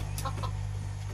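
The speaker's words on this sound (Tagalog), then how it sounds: "may manok." A couple of quick, close chicken clucks over a steady low electrical hum.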